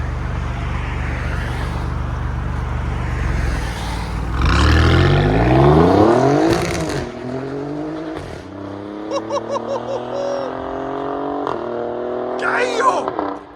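A 2023 Alfa Romeo Quadrifoglio with a Ferrari-built 505 hp 2.9-liter V6 and a resonator delete revs hard up through rising harmonics, then blips repeatedly in sharp bursts, loud and close, with a person talking partway through.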